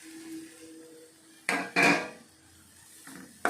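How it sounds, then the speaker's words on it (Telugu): Masala paste scraped out of a mixer jar into a cooking pan, giving a few short, sharp scraping and knocking bursts of utensil against metal, with quieter gaps between them. "ఇది మిక్సీ పట్టిందంతా కూడా మనం ఇందులో వేసేసుకోవాలి"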